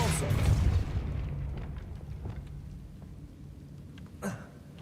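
A Depulso spell blast in the video game Hogwarts Legacy, a loud booming burst at the start that decays into a rumbling tail, with a smaller thump near the end.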